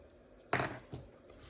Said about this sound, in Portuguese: Vou cortar aqui as sobrinhas desse fio